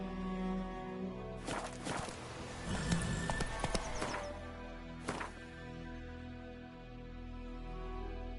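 Roach, the horse in The Witcher, trots along with steady clip-clop hoofbeats, moderately close and somewhat muffled, over a low ambient background, with a couple of louder thumps standing out.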